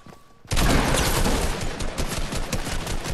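Rapid automatic gunfire in Fortnite bursts in loudly after a quiet moment and keeps rattling in dense, continuous volleys close up until the end.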